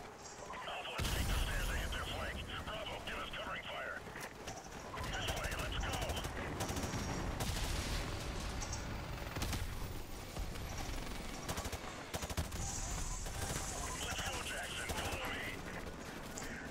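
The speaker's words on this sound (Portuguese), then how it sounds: "A gente vai matando alguns inimigos com um tiro normal." M4A1 grenadier rifle fire in the video game Call of Duty: Modern Warfare Remastered, with repeated rapid bursts of automatic shots over game noise and someone narrating throughout.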